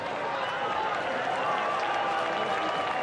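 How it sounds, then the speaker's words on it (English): Australian football crowd at a Richmond versus Port Adelaide preseason match, Tiger fans cheering and clapping after a goal: a dense, sustained roar of applause and voices from a large stadium crowd, steady throughout. "that's the reason for the noise from the crowd"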